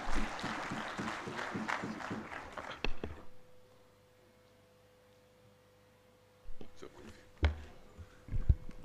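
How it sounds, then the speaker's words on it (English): Audience applause at a national healthcare quality improvement conference, honoring the session chair: clapping fills the first three seconds, then a quiet gap, then a few scattered claps return near the end. "Let's give him another round of applause"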